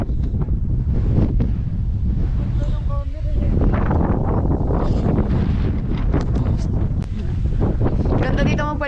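Strong mountain wind on Mt Marami buffets the microphone in a constant loud roar, with people talking under it throughout.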